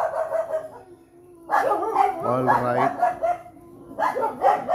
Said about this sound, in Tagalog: Ang background ko po ay mga nagkakahulang aso.